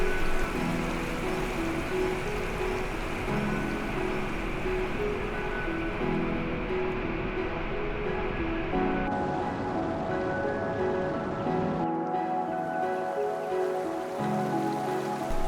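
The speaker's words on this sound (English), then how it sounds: "simply sitting with the sound of flowing water" Flowing water at Soormane waterfall in the Western Ghats makes a continuous, even rushing wash. The sound is soft and steady, with no voices.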